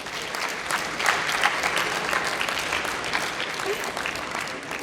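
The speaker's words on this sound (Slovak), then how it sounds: "Tak poprosím potlesk pro ně." An audience applauds a Technical University of Košice team at a construction hackathon presentation, a steady sustained clapping from a large room lasting several seconds.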